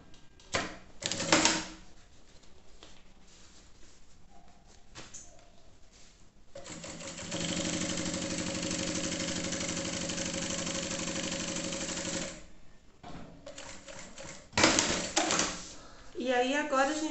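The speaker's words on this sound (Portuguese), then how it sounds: "A gente vai costurar e primeiro só o sintético no plástico." A sewing machine stitches synthetic fabric onto clear plastic for a cosmetic bag, running in one steady, fast, rattling burst of about six seconds, with handling noises and a person talking before and after.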